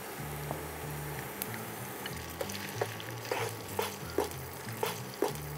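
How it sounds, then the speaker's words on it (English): Cooked spaghetti is tossed back into a pan of garlic oil and crushed red pepper, soft sizzling with repeated stirring scrapes and clicks over a low rhythmic background music bed. "we're gonna add back our pasta"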